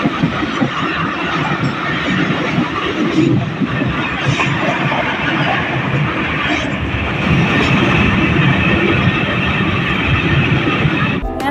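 Riding aboard the Allama Iqbal Express on the Sahiwal to Karachi route, a loud, continuous rumble of wheels and carriages rolls on steadily with rhythmic rail clatter and no talking.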